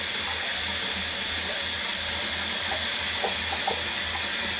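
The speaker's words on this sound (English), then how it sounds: "I got cold water going in here in the pot." Cold tap water pours steadily into a pot in a kitchen sink, a continuous bright hissing rush with a low rhythmic burble beneath, no talking.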